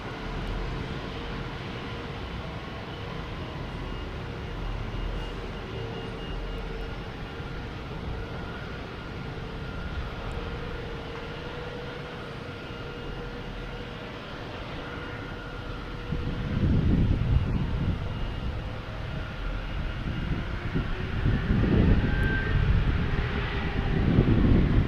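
A Condor airliner in Green Island livery at Boston Logan airport, a distant jet roar under wind noise on the microphone, swelling louder in the second half as the aircraft passes.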